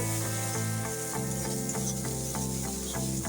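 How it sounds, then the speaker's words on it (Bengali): Spice paste of ginger, turmeric, cumin, chili and salt frying over onions in a pan, a steady loud sizzle with rhythmic scraping strokes of a stirring spoon repeating throughout, no voices. "এখন মশলাটা ভালো করে কষবো।"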